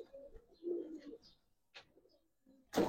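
Pigeons cooing at close range in short, low throaty bursts with brief gaps, ending in a sudden sharp rustle or flap.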